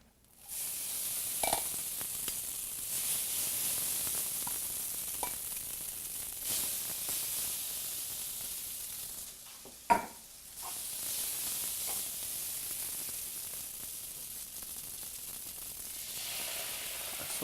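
Noodles, patted dry, sizzle and crisp as they are stir-fried over high heat in a hot pan with chicken and ginger mushrooms, a steady frying hiss broken by brief stirring clatters.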